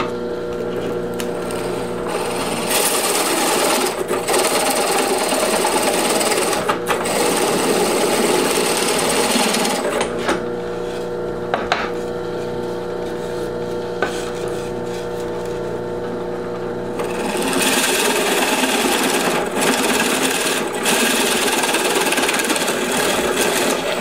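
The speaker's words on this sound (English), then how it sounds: "Big holes with flat bottom drill bit." Powered drill boring big holes with a flat-bottom drill bit, a steady loud whirring motor hum with rising and falling passes as the bit cuts, broken by brief pauses and small clicks.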